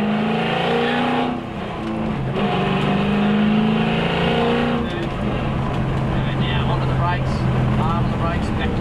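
A V8 Supercar engine roars loud and close as it accelerates around a race track, the pitch climbing through gears under a driver's coaching voice.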